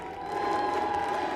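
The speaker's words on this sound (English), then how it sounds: "give it up for ET" A crowd at a fighting-game esports tournament applauding and cheering, a steady wash of clapping and shouts filling the arena without letup, with a tone humming beneath.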